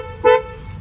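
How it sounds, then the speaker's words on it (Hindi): A 2023 Kia Carens Prestige gives a single short horn beep as it unlocks by key fob, close and brief over a low idle hum. "पौं पौं की आवाज़।"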